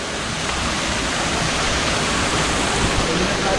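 Similijhara waterfall in Nayagarh, Odisha, a continuous dense rush of falling water, loud and close, with an unbroken even hiss throughout.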